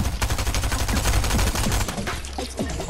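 Rapid automatic gunfire rattles continuously in a shooter video game, dense loud bursts of overlapping shots for nearly three seconds, tapering slightly toward the end.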